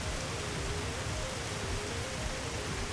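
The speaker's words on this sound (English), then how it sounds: "It's some heavy rain sounds because it's some heavy rain." Heavy rain in a video game, a dense, constant hiss of falling water that stays loud and unbroken throughout, with no voices.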